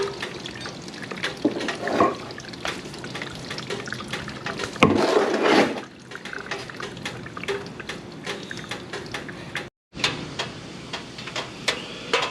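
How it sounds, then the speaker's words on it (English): Hot engine oil draining from the dry-sump system of a Porsche Carrera 3.2, a steady liquid trickle and splash running on for several seconds, with a brief break near the end before it resumes. "so we're draining out of both, still hot"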